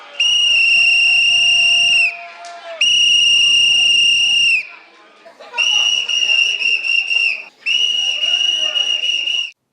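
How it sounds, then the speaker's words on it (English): A shrill whistle blasts in four long bursts separated by short gaps, loud and close, with faint background noise between blows. "generally, he blew a whistle"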